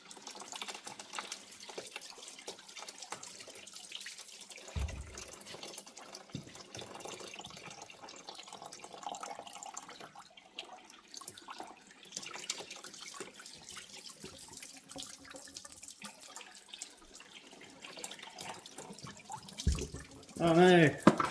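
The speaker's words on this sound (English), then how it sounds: "Got the kettle and I'm just gonna run the water in there" Tap water runs steadily into a kettle in a garage workshop, a continuous splashing hiss lasting throughout with a louder gush near the end, occasional clunks and someone speaking briefly.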